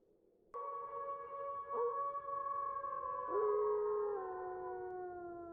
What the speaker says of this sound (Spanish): Luego escuché un gruñido, seguido por un aullido, y luego por otro y otro.